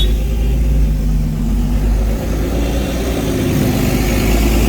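A car drives through the capital's city streets at night during curfew, giving a steady loud engine rumble and road roar that stays even throughout with no talk.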